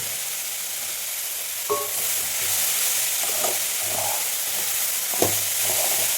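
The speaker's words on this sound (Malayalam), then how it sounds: "നല്ലപോലെ മിക്സ് ചെയ്തിട്ട് വരട്ടി വെക്കാം" Beans thoran with grated coconut stir-frying in a pan, a steady soft sizzle punctuated by a few sharp clanks and scrapes of a spoon against the pan, close up with no speech.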